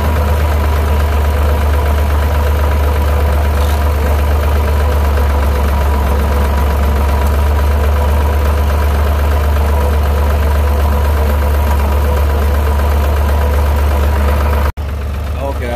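A tractor engine idles after an alternator repair, a loud, steady low rumble with constant vibration running close by for the whole stretch, then cutting off abruptly near the end.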